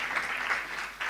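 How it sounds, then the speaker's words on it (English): Audience applause at an industry-academia workshop in Kenya, honouring Mr. Anthony Gitonga; a short, steady burst of many hands clapping at moderate distance, fairly quiet and without pause. "Ladies and gentlemen, a round of applause for Mr."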